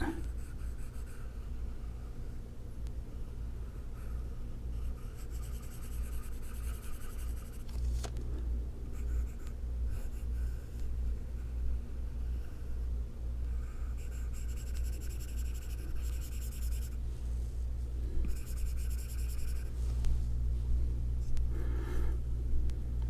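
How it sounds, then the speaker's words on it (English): Eraser rubbing out part of a digital-style drawing of a reindeer, a steady soft scratching friction that runs continuously over a low background rumble, close and fairly quiet with no talk. "Actually, yeah, I only need to erase this bit."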